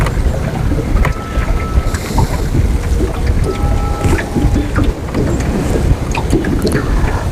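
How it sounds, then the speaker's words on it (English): Strong wind blows across a fishing boat on open water, a loud, steady roar and buffeting rumble that never lets up, with faint creaks and no talk. "That wind's getting pretty tough, to the point where my boat's almost stopping"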